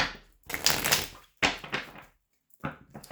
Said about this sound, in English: you heard I shuffled twice